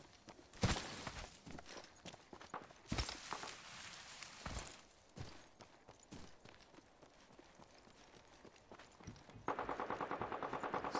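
Video game gunfire crackles in scattered, quiet bursts and single shots over faint background noise, ending in a steady rapid stutter of automatic fire.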